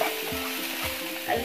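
Chopped onion sizzles and fries in a pan while being stirred for a noodle pizza, a close, steady hiss broken by rhythmic scraping strokes of the spoon.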